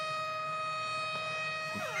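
A siren sound effect sustains steady tonal wailing for about two seconds, then sweeps upward at the end, moderately loud, with no talking.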